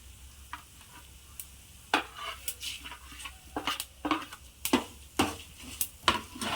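Fenugreek and cumin seeds roast in a pan, giving sparse quiet crackles and sizzling pops along with the intermittent scrape of stirring. No one speaks.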